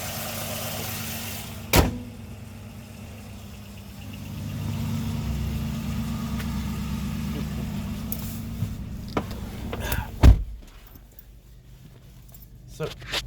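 A 2005 Jeep Liberty with a rebuilt salvage title runs with a low, steady engine rumble, near and moderately loud, broken by a few sharp thumps and clicks, with some talking over it.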